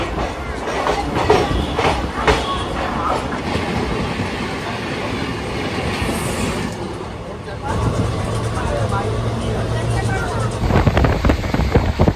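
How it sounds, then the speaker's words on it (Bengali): The Maa Tara Express runs between Bolpur and Sainthia Junction, its carriage rumble and wheel clatter loud and continuous from onboard, with people talking over it. "আর আমাদের ট্রেন এখন চলে এসেছে সাঁইথিয়া জংশনে"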